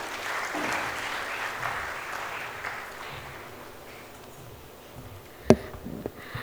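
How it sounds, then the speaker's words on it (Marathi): An audience claps to welcome a guest at a classical dance event, a broad wash of applause that fades gradually, followed by a few sharp knocks near the end. "ताईंचं टाळ्या वाजवून आपण स्वागत करूया"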